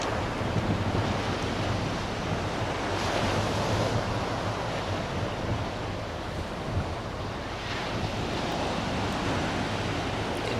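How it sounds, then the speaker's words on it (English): Ocean surf with a 2 to 3 foot swell breaks steadily onto an East Sussex beach shoreline below a cliff, a continuous loud rolling roar with surges of crashing water and some wind buffeting the microphone. "you can see the waves actually crashing onto the shoreline"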